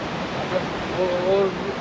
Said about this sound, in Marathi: इथून नदी जात आहे. अशी दोघा बाजूने नदी वाहते.